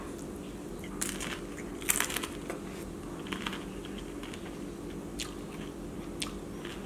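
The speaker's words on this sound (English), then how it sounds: "I can hear all the crunchy." Crunchy crab and shrimp ceviche is chewed up close in a mukbang, a series of irregular crisp crunches and bites over a quiet background.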